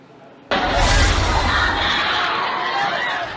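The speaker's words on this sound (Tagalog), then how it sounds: "Puro sigawan at iyakan ang maririnig sa mga nabagsakan ng gumuhong palapag ng St. Peter Apostle Parish Church" After a termite-damaged floor of St. Peter Apostle Parish Church collapsed onto worshippers, a sudden burst of screaming and crying erupts from many people at once, loud and chaotic, staying at full intensity.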